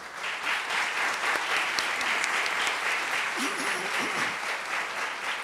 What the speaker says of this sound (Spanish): a los cuales les pido definitivamente un gran aplauso